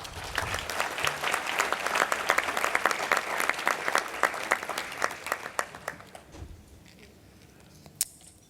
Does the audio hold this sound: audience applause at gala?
yes